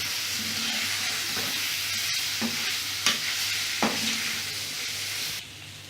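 Paneer frying in a pan with chili powder and turmeric makes a continuous close sizzle, punctuated by a few distinct spatula scrapes and taps as it is stirred, before the sizzle suddenly drops away near the end.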